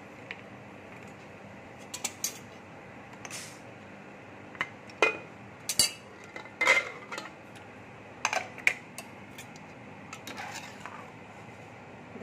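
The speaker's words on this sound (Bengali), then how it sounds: "এবার আমি কুকারটা খুলে দিচ্ছি।" Clinks and metallic clatter from a pressure cooker lid being worked open after cooking millet khichdi, a series of short sharp knocks spread across a quiet kitchen, fairly close and moderately loud.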